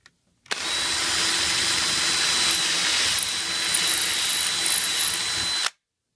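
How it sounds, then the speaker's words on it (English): A power drill whirs continuously for about five seconds driving a screw into a wooden banister, its pitch and load rising slightly as it drives in, then stops abruptly. "take the screw, put it on the end of your drill bit"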